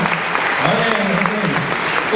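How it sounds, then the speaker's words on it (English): Audience applause at a college convocation, a steady wash of clapping from a crowd that fills the whole short stretch at an even level with no gaps. "give them a big round of applause"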